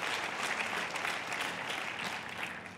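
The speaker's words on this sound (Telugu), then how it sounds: "దేవునికి ఒకసారి గట్టిగా చప్పట్లు కొడదాం." A church congregation claps loudly together in praise, a sustained, even wash of applause that carries on for several seconds, somewhat distant and roomy.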